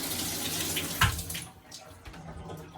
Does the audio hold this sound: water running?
yes